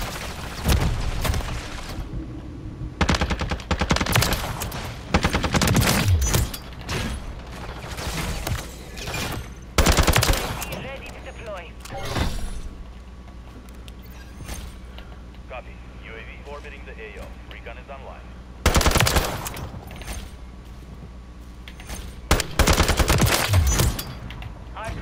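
Gunfire in Modern Warfare 3, with rapid automatic bursts and single shots coming in loud clusters, separated by quieter stretches of game ambience, while a player talks over parts of it.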